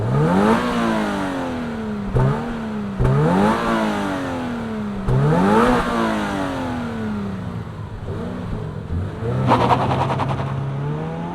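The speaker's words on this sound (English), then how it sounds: "let's fire up this BRZ and hear what it sounds like." A 2024 Subaru BRZ tS sports car engine starting up, then revving sharply several times, each rev climbing and falling away in repeated bursts, heard up close and loud with a lower idle settling in toward the end.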